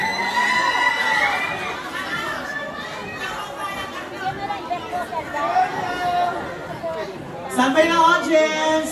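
Studio audience on the live variety show ASAP: a dense crowd babble of shouting and chatter, with cheers swelling louder near the end.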